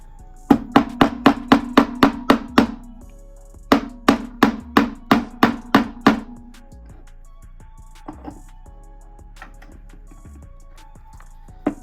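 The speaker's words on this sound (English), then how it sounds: "I might actually hammer a hole in" A hammer punches a hole in a homemade air plant stand: two quick runs of about ten sharp, evenly spaced taps each, close and loud, followed by a few scattered softer knocks.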